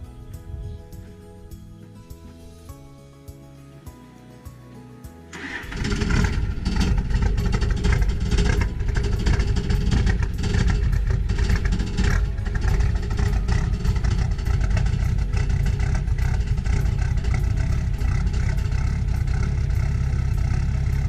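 A rough-running tractor engine cranks and catches after a few seconds, then runs loudly with an uneven, clattering chug, close up and alone.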